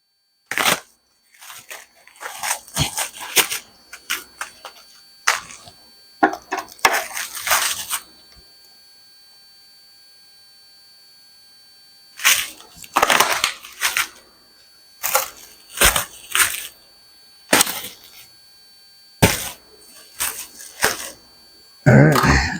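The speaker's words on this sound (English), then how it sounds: "I'm going to cut the wrap and try and pull the whole thing off at one time" Wrap being cut and peeled off a longbow form, a series of sharp crackling tears and snips in uneven bursts, close and loud, with a long quiet gap in the middle before more ripping and clatter.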